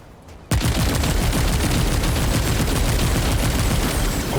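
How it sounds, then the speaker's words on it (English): Sustained rapid SMG fire from a heat-building weapon in the video game Remnant II, starting abruptly after a short quiet moment and hammering on loud and continuous to the end. "Oh, I was not expecting that to be an SMG"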